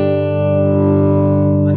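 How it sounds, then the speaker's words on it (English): An electric guitar played through a Quarterhorse 25W Microamp, with no reverb or delay, rings out as one sustained, hard-picked chord with light breakup, loud and steady throughout with no talking. "When I really dig into the pick, I can get some breakup."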